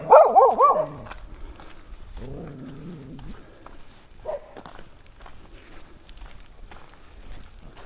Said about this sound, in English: That was the dogs.